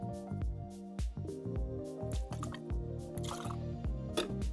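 Vanilla vodka is poured into a shaker cup, making a quiet, close gurgling trickle with small drips and splashes, heard on its own.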